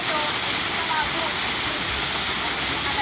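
Spring water pours steadily down a roadside waterfall, a dense, continuous rushing wash close by that stays at an even level throughout.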